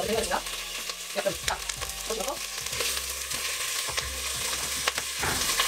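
Chicken fries in a pan, sizzling loudly and spitting close up, with a steady crackle and repeated sharp pops and stirring scrapes throughout.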